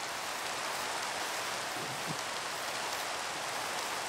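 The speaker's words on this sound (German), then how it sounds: "Es regnet mit der Bindfäden." Steady rain in Minecraft, a continuous even hiss of falling drops on surfaces that stays constant throughout, moderately loud with no voices.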